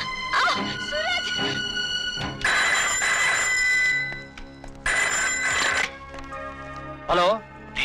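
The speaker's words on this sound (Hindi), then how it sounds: "सर, आपका फोन।" A telephone bell rings in repeated bursts, loud and close, with voices speaking between the rings.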